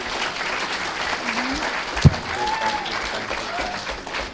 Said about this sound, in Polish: Proszę wielkie brawa dla naszego super żołnierza